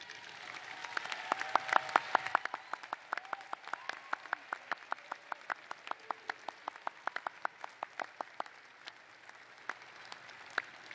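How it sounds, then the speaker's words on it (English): Applause at a law school pre-commencement ceremony, a full round of clapping that thins after a couple of seconds into scattered, sharp individual claps from a few people, fairly quiet and distant. "show them how much you appreciate their support with a big round of applause"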